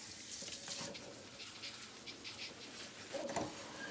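Water trickles and splashes faintly into a bowl of raw dog food with bone, a soft continuous pour with a few brief spatters, alongside distant bird calls.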